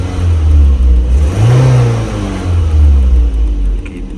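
A car engine with an aftermarket turbo boost gauge fitted is started and revved by pressing the throttle, its loud, steady low rumble swelling and rising in pitch mid-clip before settling back, with no talk.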